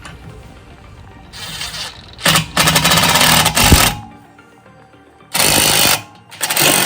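A power drill drives an 8mm bolt into a hole in a brake rotor while Brembo brakes go onto a third-generation Lexus IS; several loud bursts of whirring and grinding come in separate runs, with quieter gaps between.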